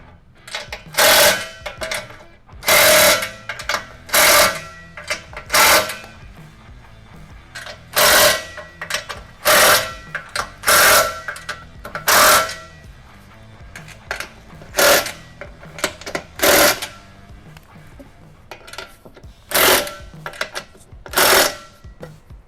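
A DRIFTR roof rack ladder mount on a Ram Promaster is tightened down with a hand tool, giving a long series of sharp, evenly spaced ratcheting clicks close by, with quieter handling noise between them.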